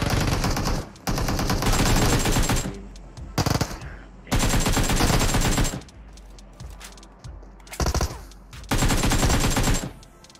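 Rapid bursts of automatic gunfire from the PUBG Mobile game crackle loudly in several separate volleys with short pauses between them.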